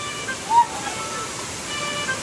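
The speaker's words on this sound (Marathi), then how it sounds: "लहानपणी एवढं मोठं धबधबा वाटायचं ना," A large waterfall in a jungle setting rushes as a steady, broad roar of falling water, with a brief faint voice-like sound over it.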